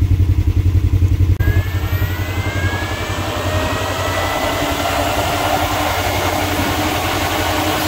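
Kawasaki KRX 1000 side-by-side engine idling with steady low rumbling pulses and a faint rising whine, loud and continuous throughout, with no talk.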